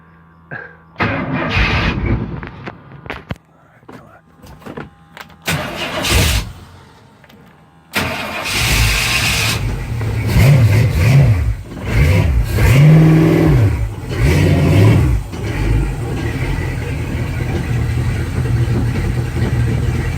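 The engine of a 1979 Rowdy Manufacturing Sandollar 17-foot jet boat, with a new oil pump, sputters a few times, then catches and revs up, settling into a loud, steady, throaty run close by.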